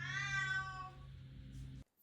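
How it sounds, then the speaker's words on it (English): A pet cat lets out a single drawn-out meow, close and clear, falling in pitch before it stops abruptly. "That was my cat."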